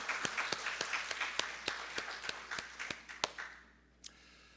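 A church congregation claps for mothers and wives during a Mother's Day service: a steady run of distinct, evenly spaced claps that stops abruptly, followed by one last isolated clap.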